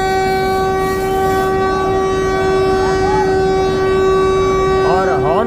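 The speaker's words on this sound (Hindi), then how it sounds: "हॉर्न बज गया है, अब ट्रेन निकलने की तैयारी है।" Train horn at Gorakhpur Junction railway station, a loud, sustained steady blast of a locomotive before departure, with station noise and voices underneath throughout.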